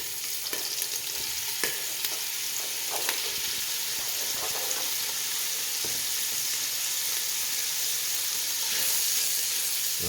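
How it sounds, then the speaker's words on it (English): Chunks of fatty spiral-sliced ham and andouille sausage sizzle and fry steadily in a pan, with occasional stirring clicks and scrapes over a constant crackling hiss. "let me get the meat and we'll start browning that up"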